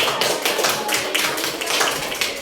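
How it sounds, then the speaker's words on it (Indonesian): Classroom audience clapping for a classmate after a presentation, a dense steady patter of many hands filling the whole moment without voices. "Oke, tepuk tangan untuk temannya. Tolong tepuk tangan."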